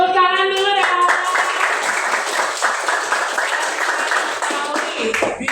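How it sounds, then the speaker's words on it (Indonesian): Classroom applause from a group of students, dense steady clapping that fills the room, opening with a brief tonal sound before the clapping takes over and continuing at even loudness throughout. "Tepuk tangan dulu ya."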